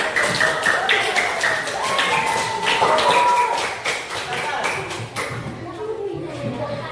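Students clapping in a classroom, a burst of many quick hand claps, close and lively, with voices talking through it before the applause fades.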